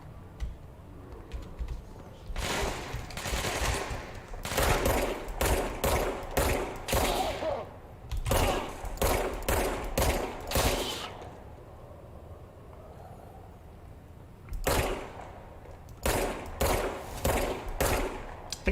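Bursts of video game gunfire in a spooky Halloween shooter, rapid volleys and single shots in repeated clusters separated by short lulls, loud and close with no talking.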